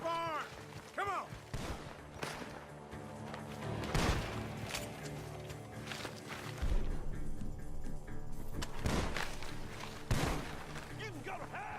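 Gunshots ring out from a barn in Red Dead Redemption 2 as sharp, repeated cracks spaced across several seconds, with voices talking and shouting around them.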